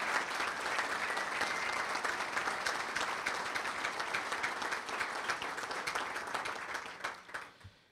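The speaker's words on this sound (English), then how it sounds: "would you give them a great round of applause for their service to the chamber?" An audience at Elmhurst's State of Our City chamber event claps warmly and steadily for several seconds, with the applause tapering off at the very end.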